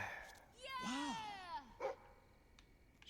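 A dog in the video game Fable 3 gives a drawn-out whining yelp followed by a short bark, with game sounds and a voice around it.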